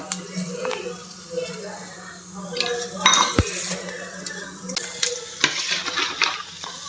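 Tempering spices crackle and splutter in hot oil, with utensils clinking and scraping against a pan close by.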